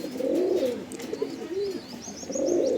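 A pair of Andhra pigeons coo close by, with low rolling calls at the start, middle and end and a few faint chirps in between.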